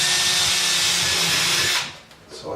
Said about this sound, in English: I'm gonna drill my holes next to my marks